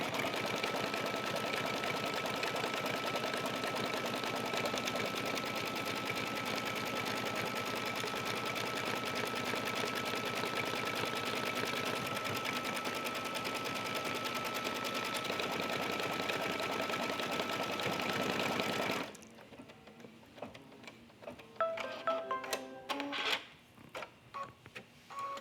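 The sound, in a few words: embroidery sewing machine stitching cork tote bag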